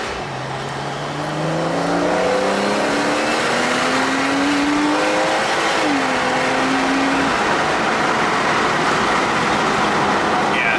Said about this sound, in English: here, let's get away from this car so you can get some sound